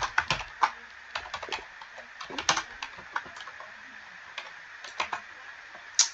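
Someone types on a computer keyboard in a steady, uneven patter of close key clicks and taps, alone with no talking.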